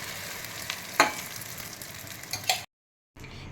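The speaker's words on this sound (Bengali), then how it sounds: "একটা ডিমের অমলেট ছেড়ে দিলাম" An egg omelette sizzles in hot oil in a pan after fritters were fried, giving a steady close hiss with a few sharp utensil scrapes, then a brief gap of silence before the sizzling returns.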